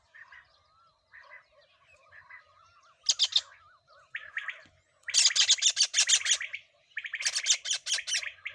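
Small blue kingfisher perched outdoors calling, giving a series of sharp, high, rattling trills in bursts that grow louder and longer toward the end, close by with no talking.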